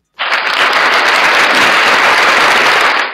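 An audience bursts into loud, steady applause that begins abruptly and holds dense and even for about three seconds before cutting off.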